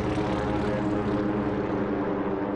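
A WWII US Navy torpedo bomber squadron takes off from an aircraft carrier, with a loud, steady propeller engine roar that holds close and constant throughout.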